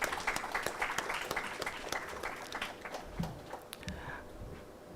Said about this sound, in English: Please, again, with a huge round of applause